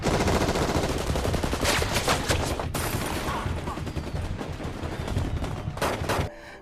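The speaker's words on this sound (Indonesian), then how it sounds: "Baku tembak pun tak terhindarkan." A film gunfight between FBI agents and armed gangsters at a guarded hideout brings loud, dense bursts of automatic and rapid gunfire that rattle on almost without pause before cutting off near the end.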